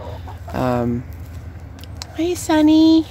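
Farm chickens cluck and squawk in a few short bursts close by, with a person briefly calling out between them.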